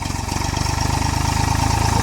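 A tractor engine loaded with sugarcane idles steadily at close range, its low, rapid, even chugging pulses growing slightly louder and holding for the whole stretch with no voices.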